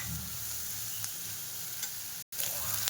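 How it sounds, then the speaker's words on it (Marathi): Chopped onions sauté in a pan, frying until soft for a paneer paratha filling: a steady, close sizzle with small stirring clicks, briefly cutting out near the end before resuming. "कांदा चांगला परतून घ्यायचा"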